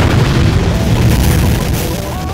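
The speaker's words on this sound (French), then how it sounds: "Éclatant le tronc d'arbre de toute sa masse, passant entre les bouts de bois arrachés comme soufflés par une explosion, Pierre-Jean Grégoire se lança" A loud, low rumbling boom of a tree trunk bursting apart as if blown by an explosion, in a French-language dramatized story. The heavy burst rolls on for two seconds and fades slightly at the end.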